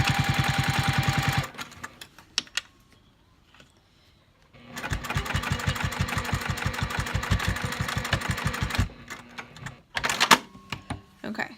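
A sewing machine runs in fast rhythmic bursts while top stitching a flat seam on a wristlet strap, with a quiet pause midway and short stops and starts near the end.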